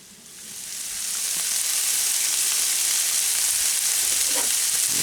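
Food in oil with salt and pepper sizzles steadily in a hot pan at a forest campsite, the hiss rising quickly and holding loud and even, with no voices.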